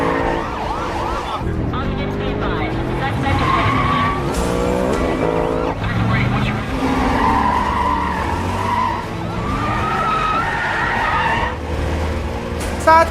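A film car chase with tires skidding and squealing, engines roaring and what sounds like a siren wailing, loud and continuous throughout with layered tonal wails over a dense rumble.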